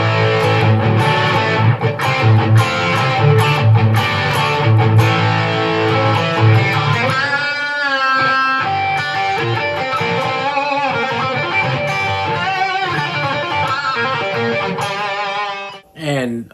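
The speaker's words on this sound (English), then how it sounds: "now the crunch from the Dual Distortion." Electric guitar through a Blackstar Amped 1 set to its Dual Distortion crunch channel and played into a guitar cab, giving a dense, sustained chordal riff that rings steadily throughout, loud and alone, before cutting off abruptly near the end.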